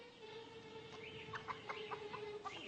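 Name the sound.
chickens clucking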